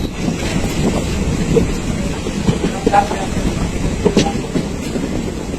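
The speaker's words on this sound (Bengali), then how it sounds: "তো এখন ট্রেনটা যাচ্ছে লাটাগুড়ির জঙ্গলের ভিতর দিয়ে এখন শিলিগুড়ির দিকেই যাচ্ছে" A local train on the Cooch Behar to Siligudi line runs through Lataguri forest, giving a steady close rumble of wheels and carriages with faint rail clatter and wind buffeting throughout.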